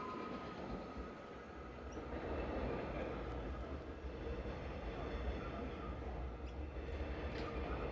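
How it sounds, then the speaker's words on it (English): A suburban train rumbles and clatters as it pulls away from Riversdale station, steady low rolling noise with faint wheel squeals, fairly quiet and without talk. "And off goes that train to Alamein."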